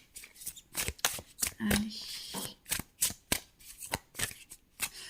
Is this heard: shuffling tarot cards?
yes